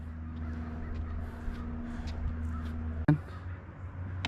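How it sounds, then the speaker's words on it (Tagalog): Eagles call from trees outdoors near a fishing spot, faint distant cries scattered over a steady low hum and background noise, with one sharp close knock partway through. "Grabe, daming agila dito."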